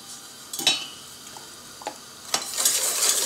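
Sugar being stirred into a vanilla-sweetened raspberry tart dough mixture, a steady scraping with a few sharp utensil knocks against the bowl and a louder swish near the end, no talking.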